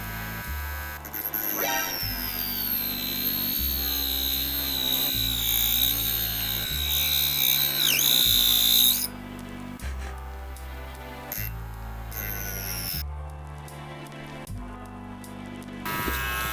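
A small power saw whines steadily at high pitch, cutting a colored pencil in bursts with pauses, accompanied by a low rhythmic thumping in the background.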